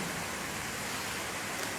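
Steady rain falling, a continuous even hiss that stays at the same level throughout with no talk over it.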